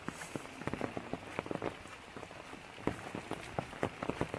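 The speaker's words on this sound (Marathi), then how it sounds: "पाऊस पण आज बराच लागतोय." Steady rain falling outdoors in the green Konkan countryside, a dense patter of close drops with scattered louder individual hits, no voices.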